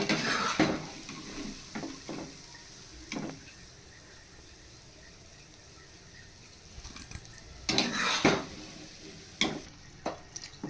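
Cauliflower pieces for gobi manchurian fry in a pan with a low hiss, broken by clattering stirs and utensil knocks against the pan, quiet in the middle and busier at the end.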